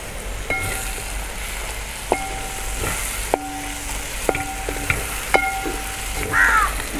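Fennel seeds go into a mutton curry masala frying in a pan for Kerala-style mutton curry, giving a steady sizzle broken by scattered light clinks and scrapes of stirring.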